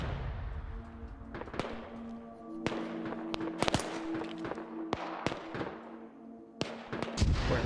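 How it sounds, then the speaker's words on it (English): Repeated sharp blasts from mortars firing in a military video game, several distinct booms spaced irregularly over a steady droning background, fairly loud and close, with no voices over them. "Those mortars are firing again."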